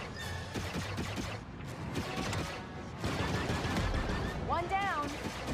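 Turret gunfire from Kay Vess's ship, the Trailblazer, in the video game Star Wars Outlaws: rapid bursts of laser blasts mixed with whooshing and warbling effects, dense and fairly loud throughout, with no talk over it.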